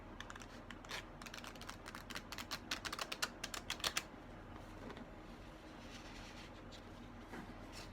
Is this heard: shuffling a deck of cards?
yes